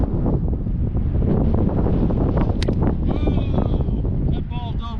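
Strong wind buffets a microphone outdoors during a baseball batting practice session, a steady roaring rumble throughout with faint bleat-like squeaks near the end.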